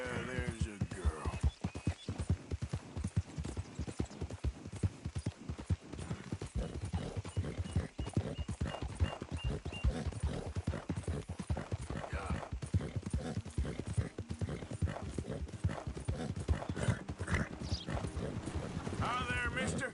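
Steady clip-clop of horse hooves at a quick trot in the video game Red Dead Redemption 2, continuing throughout, with people talking over it and occasional game sounds.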